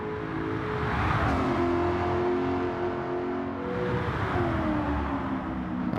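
A BMW Z8 engine in the Gran Turismo 7 racing game revs and pulls through the gears, a loud continuous growl whose pitch climbs, drops at each shift and climbs again, with no talk over it.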